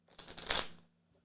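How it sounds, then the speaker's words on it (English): A deck of playing cards shuffled once by hand: a quick ruffling burst of riffling clicks that peaks and then dies away, close and fairly quiet, with no talk. "let me just shuffle these because I haven't really shuffled them"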